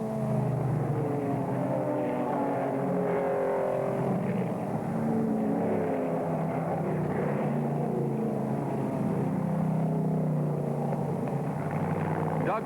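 Race cars at high speed during the 1963 Road America 500, a steady roar of engines rising and fading as they pass, heard under continuous narration.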